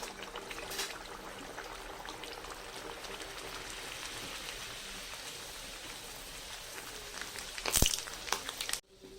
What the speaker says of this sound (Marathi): तेल कढईत घेतलेलं आहे। तेल चांगलं तापलं आहे। आता हे पुऱ्या ज्या लाटलेल्या आहेत त्या ह्या घालायच्या आहेत।